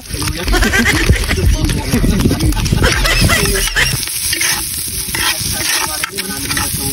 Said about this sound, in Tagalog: At ako naman magigisa ng bawang sibuyas.